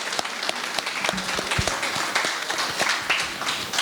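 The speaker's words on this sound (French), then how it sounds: "que je demande d'applaudir très très fort" An audience at a political rally of youth and women's leagues in Paris claps loudly, with sharp individual claps standing out of a dense, sustained ovation that has no talk over it.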